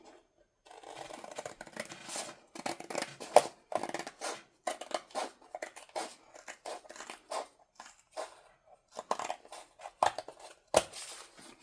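Scissors snip repeatedly through junk mail paper for a trifold wallet, quick, irregular cuts, close and crisp, with short pauses between runs.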